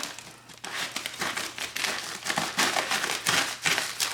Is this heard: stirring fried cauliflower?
no